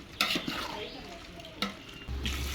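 Spices are stirred and mixed in a frying pan, with a faint sizzle and a few sharp clinks and scrapes of the spoon against the pan, close by and quiet.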